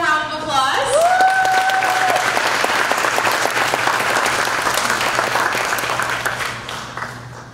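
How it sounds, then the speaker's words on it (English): Local representatives walking out at a Miss South Central Rock River Valley pageant are met by loud, dense audience applause that holds steady for several seconds before tapering off, with a brief voice and a cheer at the start. "give them a round of applause"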